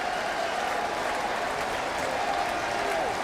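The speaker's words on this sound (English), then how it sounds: "The Yankee Stadium crowd has really responded to it." A Yankee Stadium baseball crowd cheers and applauds in a dense, steady roar that fills the whole stretch, with faint broadcast talk underneath.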